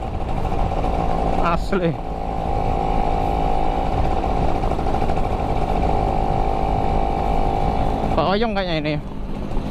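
A Yamaha F1ZR two-stroke motorcycle runs hard on a road in Lampung with a loud, steady buzzing drone throughout, and short rising revs near the start and the end as passing engines blip; people talk briefly over it.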